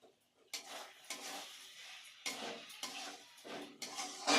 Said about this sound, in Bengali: আর ঢাকনা দেব না, এভাবে কষে নেব